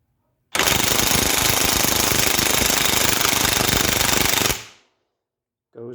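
A loud DeWalt electric impact wrench hammers continuously for about four seconds removing a VW Super Beetle control arm bushing, a dense rapid rattle that stops abruptly, followed by a short burst of a voice.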